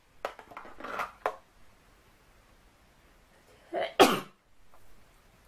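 Two bursts of sneezing, a short cluster of small sneezes early on and then one louder, sharper sneeze a few seconds later, close up in a quiet indoor room.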